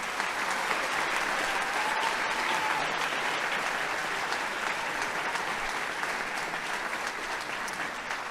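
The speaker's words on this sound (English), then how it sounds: "let's give these students another round of applause." An auditorium crowd at a high school senior awards ceremony applauds students receiving citations, a sustained even wash of many hands clapping, moderately distant and unbroken, with no speech over it.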